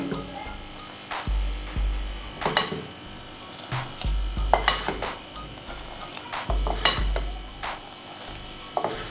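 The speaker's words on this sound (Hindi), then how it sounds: "मैंने 3 टीस्पून अंदर पत्ती ऐड की है और अब हम इसको मिक्स कर देते हैं" Tea leaves, three teaspoons, being stirred into a pot of tea, a spoon clinking and scraping against the pot in repeated close, irregular strokes over a low steady hum.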